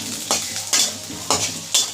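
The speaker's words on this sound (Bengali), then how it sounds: "এবার আলুগুলোকেও একটু ভাজা ভাজা করে নিই।" Diced red-skinned potatoes fry and get stirred in a pan, a steady sizzle broken by four sharp scraping strokes of a spatula at regular intervals, close and loud with no talk.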